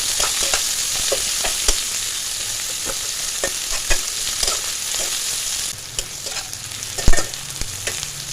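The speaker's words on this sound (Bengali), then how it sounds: "এবার পেঁয়াজটাকে হালকা করে ভেজে নেব।" Long-sliced onions fry lightly in a pan for a Bengali chicken curry, giving a continuous close sizzle punctuated by regular sharp scrapes and taps of a stirring spoon.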